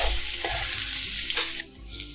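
Onion frying in half a ladle of oil in a pan for Maharashtrian misal, a steady close sizzle with occasional stirring scrapes, no talking.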